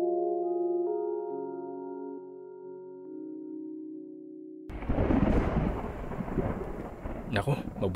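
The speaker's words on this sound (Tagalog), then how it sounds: "Baka abutan pa tayo ng ulan." A sustained musical drone gives way to a sudden loud crash of thunder as part of a radio drama effect, followed by a rolling rumble and the steady hiss of heavy rain with crackles, and no voices.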